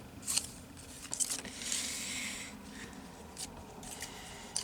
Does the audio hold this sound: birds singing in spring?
no